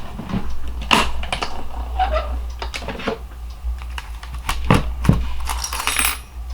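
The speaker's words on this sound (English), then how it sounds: "we're going to cut this out, cranking it through" A hand-cranked die-cutting machine feeds a die set through, giving a close run of irregular clicks, knocks and rattling taps over a steady low hum, with no voices.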